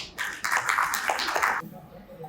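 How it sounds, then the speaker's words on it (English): Conference audience at a design debate event in Raipur applauding an opening speaker, a burst of clapping for about a second and a half that then stops abruptly, with a voice nearby. "Please give him a huge round of applause"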